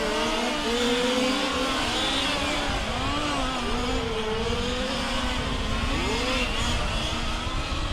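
Several large-scale RC race cars scream around a racing track at a world championship final, their whining engines overlapping and sweeping up and down in pitch as they pass at mid distance.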